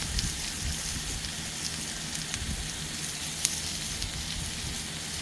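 Onions frying in hot oil for an Indian-style chicken curry, a close, even hiss of sizzling with small scattered pops and one sharper snap, no voices.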